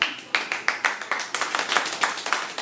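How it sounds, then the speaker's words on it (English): Applause from a live audience at a comedy show's season finale: a brisk burst of clapping with sharp, repeated hand claps in a fairly steady rhythm, moderately close and loud, with no talking over it. "Applause."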